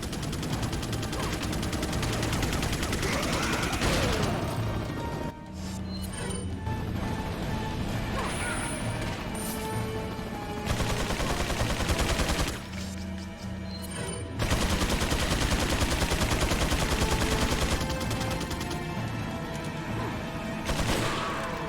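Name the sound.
chain gun and gunfire in video game Resident Evil 4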